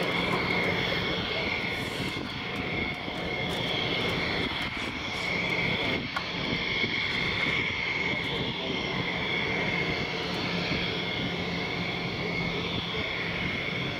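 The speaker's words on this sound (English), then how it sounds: "It's kind of crazy how these single-engine F-16s are almost as loud as those giant" Single-engine F-16 fighter jets of the Thunderbirds roar overhead at an El Centro air show, a sustained distant engine rumble with a whining tone, while people talk nearby over it.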